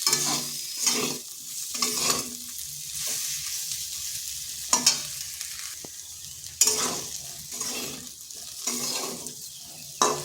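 Okra masala (bhindi fry, Punjabi style) cooking on a low flame, a soft steady sizzle broken by repeated scraping stirs of a spoon against the pan, close and fairly quiet, with no voices.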